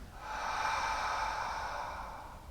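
One long, soft exhale during a breathing exercise, a smooth airy hiss that swells and slowly fades over a couple of seconds, close and quiet.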